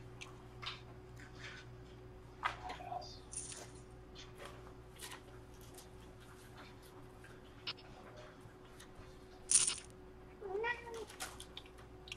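Cats meowing indoors, several short, faint-to-moderate meows scattered over a quiet background hum, with a louder cluster of cries near the end.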